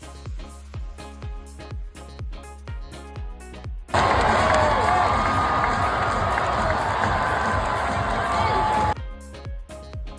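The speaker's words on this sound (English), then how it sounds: "when it's a home game, everybody's going to be cheering" Crowd at a baseball game in Fenway Park breaks into a loud, sustained roar of cheering for about five seconds, preceded and followed by rhythmic clapping and thumping under steady crowd murmur.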